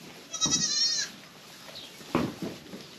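Goats in a herd on a garden homestead bleat at each other just after being let out, one long quavering bleat followed by shorter, fainter calls, fairly close, with no talk.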